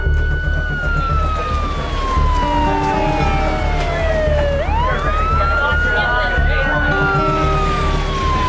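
An ambulance siren wails loudly and continuously in a tense street scene around a bomb threat, its pitch sliding down and back up as the vehicle passes, over a dense rumble of traffic and background noise.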